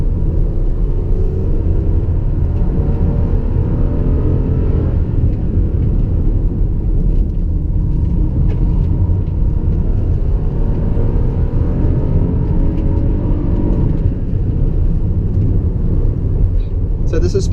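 A 2015 Toyota Aurion Presara accelerates hard around a corner, heard from inside the cabin as a loud, steady engine drone and road rumble that holds throughout.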